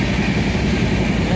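Steady low rumble inside a passenger train travelling from Surat to Reva, a continuous close roar of the moving carriage with faint chatter in the background.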